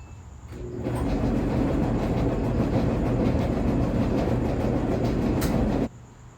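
A Samsung clothes dryer with worn drum rollers tumbles with a loud, rough, rattling rumble that holds steady for several seconds, then abruptly stops.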